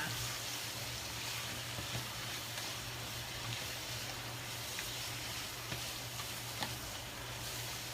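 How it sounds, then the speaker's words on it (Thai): Food is stir-fried in a pan, making a faint, even sizzle under low hum, broken by occasional soft clicks and scrapes from stirring. "เบาไปนิดนึงผัดไปเรื่อย ๆ นะคะ"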